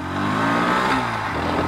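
A 125cc motorcycle, a 2025 Bajaj Pulsar NS125 ABS or Hero Xtreme 125R ABS, pulling away in first gear, its engine droning loud and steady close by as it revs up.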